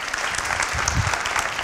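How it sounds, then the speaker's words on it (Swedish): An audience at a lecture on gender equality in sport breaks into brief, dense applause, a steady burst of many hands clapping for under two seconds. "En applåd, Olivia Skog"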